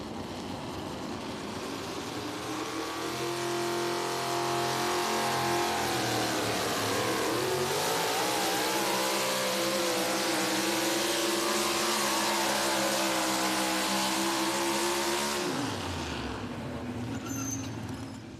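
A Dodge pulling truck at an NTPA truck and tractor pull, engine roaring steadily as it climbs the track for most of the run, loud and sustained, then cutting off abruptly near the end.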